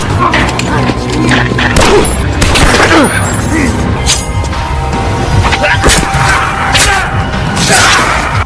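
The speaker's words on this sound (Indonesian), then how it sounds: "sehingga baku tembak pun kembali terjadi." Gunfight in the film Code of Honor: a chaotic, loud mix of rapid gunshots, booms and crashing impacts against a dense soundtrack, with bursts repeating throughout.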